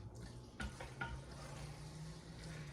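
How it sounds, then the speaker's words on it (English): A spoon stirs diced tomatoes with their canned juice into chili in a pot. A few soft scraping strokes rise over a low background hum, and no one speaks. "Give it a good stir, and that's with the juice in the can with those diced tomatoes."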